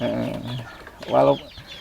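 A chicken clucks briefly nearby, with a louder cluck burst standing out after quieter fowl sounds.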